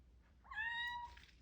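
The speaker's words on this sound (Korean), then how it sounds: "원씨 가문의 고양이야" A small kitten gives a single clear, high-pitched meow, close and fairly soft, in an otherwise quiet room.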